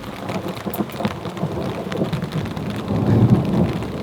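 Steady rain falls outdoors with low rumbling thunder building toward the end, a dense continuous wash of drops with no voices.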